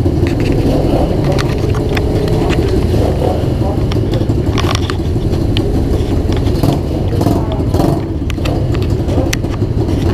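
A pit bike ridden on a track in Belgium, its engine droning steadily for the whole stretch under heavy wind rush, loud and close with no clear breaks.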